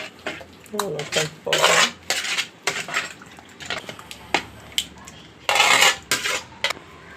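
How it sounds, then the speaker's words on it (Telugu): A spoon mixes boiled bottle gourd with salt in a bowl, giving close, irregular clinks and scrapes against the bowl in short bursts with quiet gaps between strokes. "సొరకాయ ఉడకబెట్టి ఇట్లా కలిపేస్తున్నాను"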